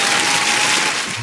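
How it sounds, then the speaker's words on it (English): A crowd bursts into loud, sustained applause, dense clapping filling the room and tapering off slightly toward the end. "put your hands together and a rousing round of applause"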